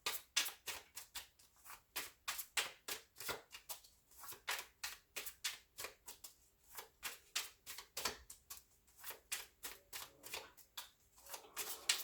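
An Arcanum Tarot mini deck is shuffled continuously, with quick rhythmic riffling bursts of card edges repeating for twelve seconds, close but quiet, with no voices.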